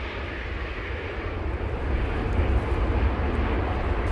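A plane landing at Manchester Airport on a windy day, heard as a steady broadband engine roar that builds slightly in the second half, continuous and moderately close with a wind-buffeted rumble underneath.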